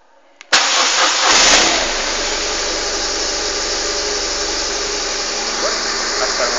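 A repaired vehicle engine, one with a rear brake, cranks and catches with a sharp burst, revs briefly, then settles into a steady close idle that carries on to the end.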